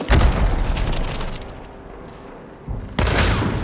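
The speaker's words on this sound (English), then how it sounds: "So throw the dynamite." Thrown dynamite goes off in the video game Hunt: Showdown, one heavy, booming blast that fades into a low rumble before another burst of noise hits near the end.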